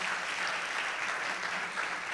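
Audience applause for a musician at a traditional choir anniversary show in Sardinia, a steady dense wash of clapping from a large crowd, sustained and even throughout with no voices standing out.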